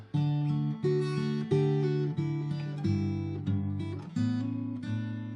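A plucked guitar riff rings out clearly on its own, bright picked notes over sustained bass tones in a steady repeating pattern.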